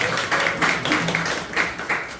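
Audience clapping in a small ukulele performance venue, thanking the shop owner, a lively run of overlapping claps from a modest crowd, close and fairly loud.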